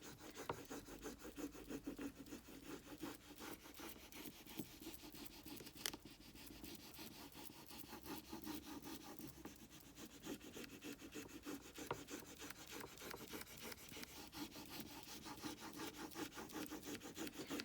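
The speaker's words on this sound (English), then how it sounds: "you have your little stick, your rubbing stick, and you just rub this. And I use pretty good pressure." A rubbing stick pressed firmly over a decor transfer on a surface, giving a steady, close, scratchy rubbing of quick short strokes that runs continuously throughout at a soft, even level.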